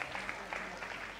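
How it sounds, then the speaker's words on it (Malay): Steady applause from a crowd at a retirement ceremony, dense and continuous clapping at moderate volume throughout. "Tepukan gemuruh untuk Dr. Randall Raffi."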